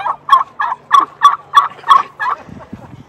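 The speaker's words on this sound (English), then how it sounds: "We've got three other turkeys in here." Turkeys gobbling at a farm sanctuary: a loud, close series of about eight evenly spaced gobbles in quick rhythm, trailing off into softer low clucks at the end.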